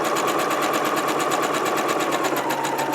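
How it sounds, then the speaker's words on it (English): A sewing machine stitching fabric for a holiday countdown banner, running loud and close in an even, continuous high whir with a fast regular stitch rhythm for the whole stretch. "you drop your presser foot, and you keep on sewing"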